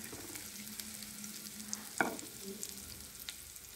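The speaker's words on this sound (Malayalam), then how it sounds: "ഒരു തണ്ട് കറിവേപ്പിലയും കൂടെ ചേർത്ത് വറുത്ത്" Cumin and curry leaves fry in ghee for a Kerala kootu curry, giving a steady soft sizzle with a brief louder crackle and stir about midway.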